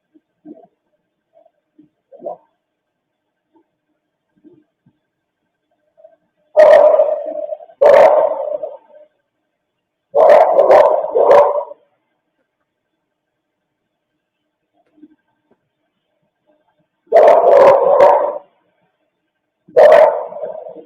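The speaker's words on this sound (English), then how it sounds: "A lot of barking." Dogs bark in about six separate bursts spread over twenty seconds, each a quick volley of loud barks against otherwise near silence, with a few faint distant yips in between.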